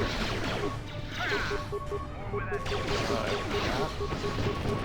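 Gunfire fills a Star Wars KOTOR II battle as a dense, continuous wash of blaster shots and impacts. It sounds loud and busy throughout, with layered game effects.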